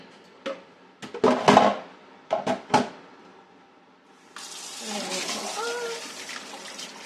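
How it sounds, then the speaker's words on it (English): Tap water runs into a kitchen sink to soak dishes, a steady close splashing stream that starts after several brief knocks and clatters. "Get it soaking so we have an easier cleanup later."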